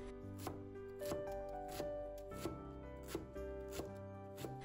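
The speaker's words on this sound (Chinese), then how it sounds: "把包菜切成丝， 再切碎" Knife chopping cabbage on a cutting board, a series of sharp, evenly spaced thuds about every half second against a faint steady background, close and distinct with no talk.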